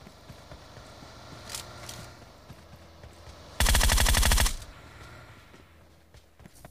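Burst of rapid automatic gunfire from PUBG Mobile, just under a second of loud, evenly spaced shots that stands out sharply over quiet in-game ambience and faint footsteps.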